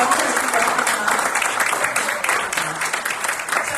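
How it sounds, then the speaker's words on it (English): Audience applause for a guest invited on stage at a Sunday celebration service, a dense wash of clapping throughout, steady and fairly loud, with a voice briefly audible underneath. "let's give a round of applause for Joe"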